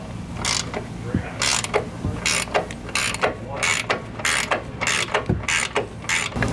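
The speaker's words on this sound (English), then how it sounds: "Now you can grab your 21 ratcheting wrench and take off the nuts on top of your shock." Rapid bursts of ratchet clicking from a 21 ratcheting wrench backing off the upper shock nuts on a 2020+ GM 2500 truck during a lift kit install, repeated short strokes in an irregular rhythm, close and clear with no talk.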